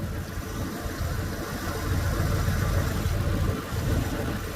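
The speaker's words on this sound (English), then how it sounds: "for a 3V engine, which honestly I don't like at all, she runs top notch. Not a misfire" Ford 3V V8 engine idling steadily close by, a continuous low rumbling drone with slight loudness swells and no voices.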